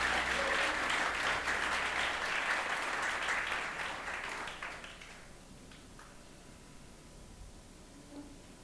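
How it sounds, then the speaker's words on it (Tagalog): A church congregation gives sustained loud applause during a worship service, a dense wash of many clapping hands that gradually thins and fades out. "pumalakpak ng the best kay Jesus"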